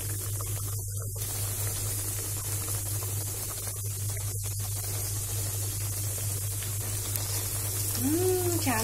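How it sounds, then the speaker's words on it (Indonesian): Battered crispy egg frying in hot oil: a steady, loud sizzle and hiss fills the clip without pause, with a brief voice-like sound near the end. "ini kita panaskan minyak terlebih dahulu ya. Kemudian ini kita goreng"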